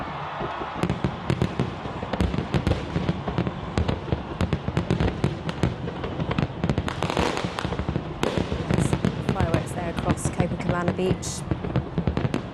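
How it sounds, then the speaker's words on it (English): New Year 2023 fireworks in Brazil burst in dense, loud rapid volleys of bangs and crackles throughout, with a voice speaking briefly over the explosions. "We're expecting fireworks any second now."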